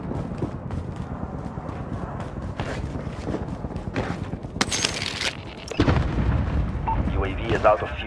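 Air strike explosions in Call of Duty Warzone make heavy booming thuds and a loud crackling burst over a dense game soundscape, with voices talking throughout.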